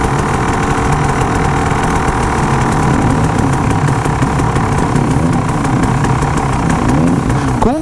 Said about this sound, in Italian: Quindi ora ci fermiamo a cambiare il minimo.